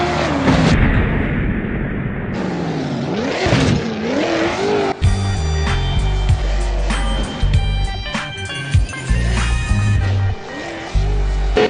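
Chevrolet Camaro in the BeamNG driving game, engine revving and shifting through rising pitch sweeps, then sharp impacts and crunching collision noise with scattered bangs, loud and close.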